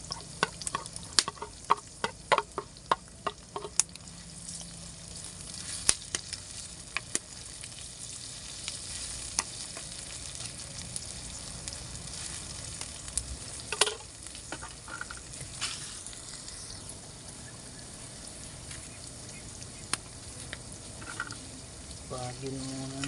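Chili and ginger sizzle and crackle steadily as they fry in a hot pan for adobo with snails, with brief stirring clatter and a few sharp pops over a constant hiss.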